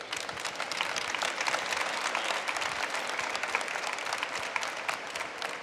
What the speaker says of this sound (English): can I ask for a round of applause for our amazing panelists?